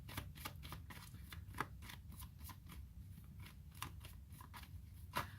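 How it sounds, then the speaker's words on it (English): Tarot cards shuffled by hand in a quiet room, giving a run of soft, irregular riffling taps and flicks with a few sharper snaps, close and alone with no talk. "I'm going to go ahead and shuffle and pull some more cards to get more information."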